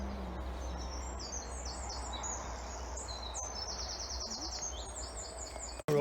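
An April dawn chorus of many birds chirping and trilling in overlapping, repeated phrases, moderately distant over a steady low hum, ending in a sudden loud bump.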